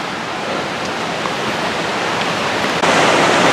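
Rushing waterfall on the Hanging Lake Trail, heard as a steady broadband roar of falling water with no break, close and fairly loud, swelling slightly louder near the end.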